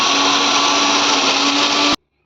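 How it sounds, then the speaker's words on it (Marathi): A kitchen mixer grinder whirs steadily at high speed, pulverising biscuits into powder, a loud constant motor drone with a bright tonal hum that cuts off abruptly near the end, leaving silence. "चला आता याची आपण बिस्किटची पावडर बनवून घेऊ मिक्सरमध्ये"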